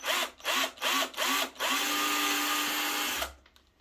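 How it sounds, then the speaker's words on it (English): A power drill pre-drills holes in wood for a plant lighting build: four short bursts of whirring, then one long steady run that stops abruptly. It is loud and close, with no talk. "Let me explain exactly why I'm pre-drilling these holes."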